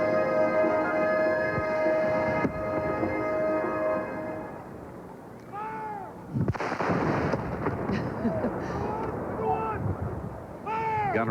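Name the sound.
ceremonial cannon firing at opening ceremony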